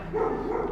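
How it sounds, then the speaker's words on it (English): A neighbouring dog barks in the background, a short, muffled woof heard at a distance under a low steady hum. "you can hear my neighbor's dog kind of barking in the background there"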